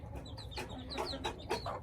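A hen clucks close by in a quick series of short, throaty calls, with no talking.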